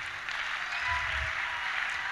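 A seminar audience applauding and cheering, a dense, sustained wash of clapping with some low crowd noise, steady and moderately loud.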